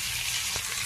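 Chicken meat frying in a pan with cumin for a bamboo shoot dish, a steady close hiss of sizzling oil with a brief soft clink near the middle.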